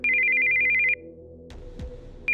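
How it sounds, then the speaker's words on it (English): A cell phone rings with an incoming call in the visual novel Steins;Gate 0: a loud, rapid electronic ringtone trill plays for about a second, breaks off, then starts again after a short pause with soft rustling between. "we heard the sound of an incoming call on a cell phone."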